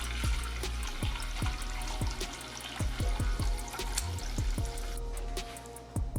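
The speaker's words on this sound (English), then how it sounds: "go ahead and fill the pot up with some water" Tap water runs into a cooking pot with a steady rushing trickle, broken by a series of sharp knocks and clunks from the pot against the sink, close and fairly quiet.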